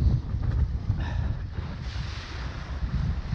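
Strong offshore wind buffeting the microphone while wing foiling on a Gong Zuma 7'3" board over open water, a constant loud rushing roar mixed with splashing and water motion, no speech.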